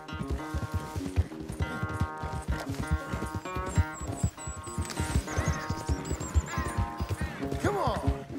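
Horse hooves clip-clop on a ranch in Red Dead Redemption 2, a steady run of close, moderately loud hoofbeats, with a neigh or whinny near the end.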